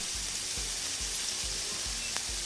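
Food frying on a griddle in a kebab restaurant simulator game, a steady bright sizzle with a soft periodic low thump repeating about twice a second, no voices.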